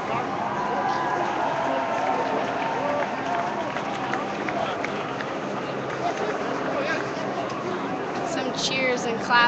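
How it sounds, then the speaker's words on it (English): A large outdoor crowd at a solidarity rally in Chicago cheers and claps in a dense, continuous roar of voices and scattered applause, with people talking throughout the mass of noise. "Some cheers and claps coming from"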